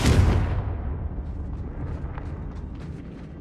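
Confringo, the fiery explosive spell from the Hogwarts Legacy game, goes off with a loud burst right at the start. A rumbling blast follows and fades into a long, noisy decay, with faint crackles trailing after it.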